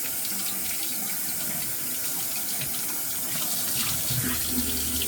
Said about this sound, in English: Let me warm this water up.